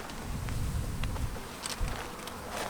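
Honey bees buzz close by around a mess of spilled honey, a soft continuous drone with brief louder passes as individual bees fly near, and no voices.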